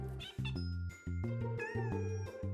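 A cartoon kitten in a Hindi-dubbed children's cartoon meows again and again, a string of loud, close, drawn-out cries in quick succession.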